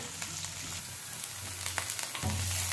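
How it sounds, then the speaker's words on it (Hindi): Onion and coriander masala for a Malvani crab curry sizzles steadily in a pan, a close, even fry with faint stirring scrapes and a deeper hiss surging near the end. "ये सब अच्छे से भूनने के बाद हम इसमें डालेंगे हरा धनिया"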